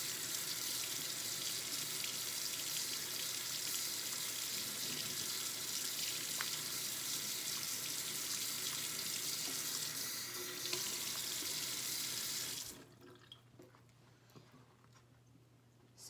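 Warm tap water runs steadily into an enema bag held in a sink, a continuous broadband rushing splash that lasts about twelve seconds before the faucet shuts off, leaving a quiet room.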